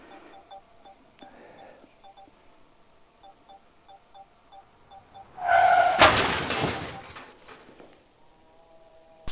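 A DJI Mini 4 Pro drone crashes in the woods. Faint repeated beeps come first, then a sudden loud crunching impact and rustle lasting about a second and a half before things go quiet.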